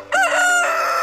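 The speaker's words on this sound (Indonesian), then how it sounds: "di pagi hari terdengar suara ayam jantan berkokok." A rooster crows once as a morning sound effect in a children's story, loud, close and clean, rising sharply and then holding a long drawn-out note.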